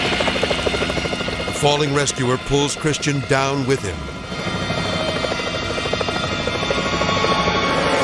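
A rescue helicopter hovers with a loud, continuous rotor thrum and engine whine. A narrator speaks over it in the first half, then the aircraft noise runs on alone.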